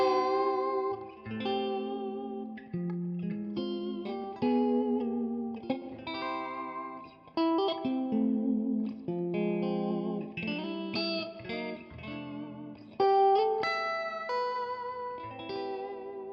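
An electric guitar, a Strandberg, playing a melodic line with a crunchy overdriven tone and some chorus shimmer, clear and alone, notes ringing into each other.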